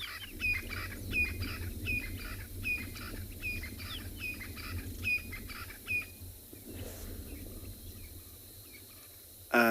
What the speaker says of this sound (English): listening to the beautiful bird calls